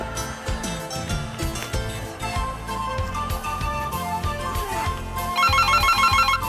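A mobile phone ringtone plays as a busy, bright electronic melody, loud and continuous with a rising, denser jingle near the end; no talking over it.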